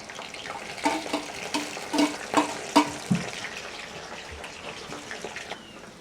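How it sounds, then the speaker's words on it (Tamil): Okra frying in hot oil, with a soft sizzle and scattered sharp clinks and scrapes of a utensil against the pan, no voices. "இப்போ நாங்கள் மிச்ச வெண்டிக்காயும் அதே மாதிரி பொரிச்சு எடுப்போம்"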